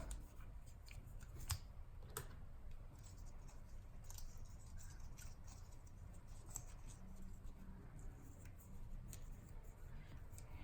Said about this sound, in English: you start folding like accordion fold